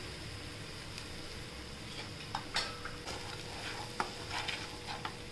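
Potato filling with turmeric and chilli thecha being stirred in a pan, faint steady sizzle with scattered spoon scrapes and light taps against the pan, no talking.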